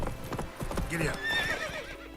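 A horse in The Witcher 3 clip-clops on hooves and lets out a high, wavering whinny, close and clear, with a voice speaking over it.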